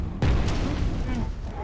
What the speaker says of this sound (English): So the grenades cause the explosion too.